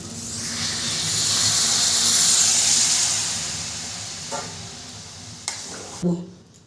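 Hot water goes into a pan of cooking chickpea masala, producing a broad steamy hiss and sizzle that swells for a few seconds and then fades, followed by a few small clinks nearby.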